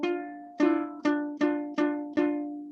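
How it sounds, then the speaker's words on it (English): A minor third interval played as a harmonic pair of notes on a plucked or keyed instrument, struck five times in a steady rhythm, each attack ringing and decaying before the next, close and clear with no talking. "So a minor third sounds like this."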